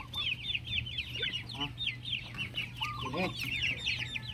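Chickens cluck and chatter nearby in a rapid, uneven run of short calls, with a steady low hum underneath and a few faint voices in the background.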